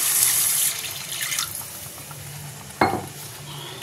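Water is poured into a pan of cooked-down chital fish curry masala, a bright splashing rush at the start, followed by softer stirring and a short sharp splash near the end.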